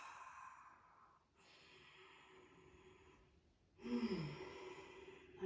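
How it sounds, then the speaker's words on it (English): Slow, deep breaths during a guided breathing exercise: a long exhale, then a soft inhale, then a louder, forceful breath toward the end, close and quiet with no speech. "I'm gonna breathe a couple times in here, deep."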